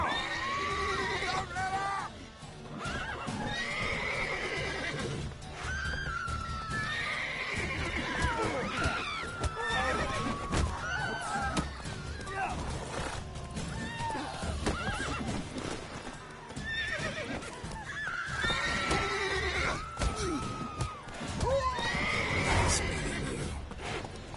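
Horses neigh and whinny repeatedly amid clip-clopping hooves, loud and close, with shouting and a chaotic crowd-like commotion throughout.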